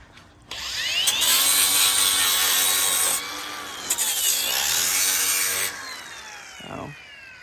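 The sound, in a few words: power tool smoothing edges of cut doors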